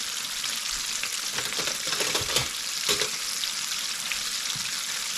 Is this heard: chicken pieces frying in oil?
yes